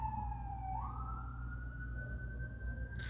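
A distant siren wails steadily, its tone rising slowly, over a constant low rumble of traffic in a busy city.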